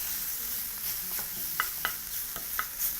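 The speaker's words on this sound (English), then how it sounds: "sweating out my garlic and ginger" Garlic and ginger fry in a hot pan with a soft, steady sizzle, broken by a few sharp scrapes and clicks of stirring, close by and without voices.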